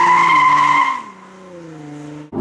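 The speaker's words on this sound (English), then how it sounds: "when you turn the traction control off, this thing is great through the corners" Infiniti G37 coupe cornering hard with traction control off, tires squealing in a loud sustained tonal screech that dips in pitch and fades, ending with a brief thump.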